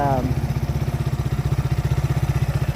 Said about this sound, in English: got the SP200 out on the street. First little test ride here.